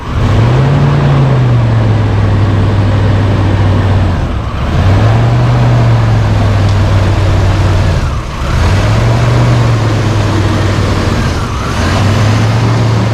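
A 1992 Sonoma GT's 4.3 engine idles with a steady low drone that rises and falls in repeated surges about every four seconds, loud and close, with no talk.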